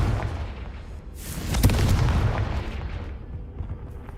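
A Confringo spell blast in the Hogwarts Legacy video game, a loud booming explosion that swells and rumbles for a couple of seconds before fading, with no talking.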